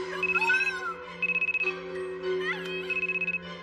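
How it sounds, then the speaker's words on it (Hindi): A phone ringtone chimes in repeated bursts of bright electronic tones over a steady background hum, fairly loud and close, with no one talking over it. "अपना फोन बंद करो।"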